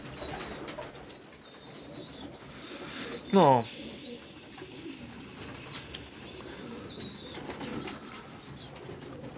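Domestic pigeons, including young birds of the year, coo in a pigeon loft, with one brief, louder burst of calling standing out over a steady low background and someone talking nearby.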